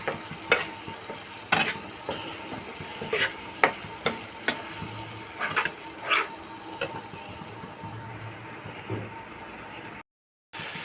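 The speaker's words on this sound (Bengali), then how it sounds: "আমি আঁচ কমিয়ে মশলাটা কষছি" Spice paste sautéed in oil over low heat in a pan for a fish curry with pabda fish: irregular spoon scrapes and knocks over a soft steady sizzle, close and fairly quiet, ending in a brief silence.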